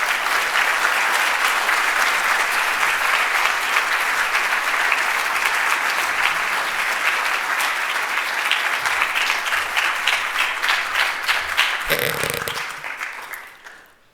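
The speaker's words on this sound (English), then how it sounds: "So please come up and take your applause" Sustained, dense applause from a large audience at a hall of fame dinner, loud and steady for about twelve seconds before tapering off quickly at the end.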